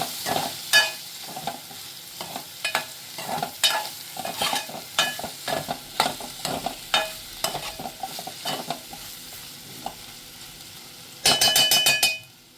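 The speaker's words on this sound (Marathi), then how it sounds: "आता हे सगळं छान असं परतून घ्यायचं" Bombay duck dry fish and potatoes sauté in a pan, with a soft constant sizzle under repeated rhythmic scrapes and knocks of a spatula stirring, close up, ending in a louder brief clattering rattle.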